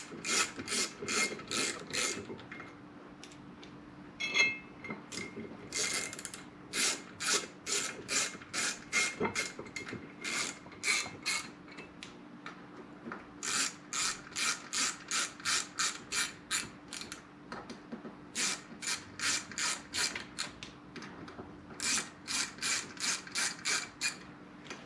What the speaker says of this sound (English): I suggest you start all the screws